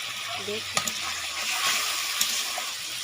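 Fish curry with split green chillies bubbles in a pan, a quiet sizzling simmer with a few soft clinks and scrapes of stirring.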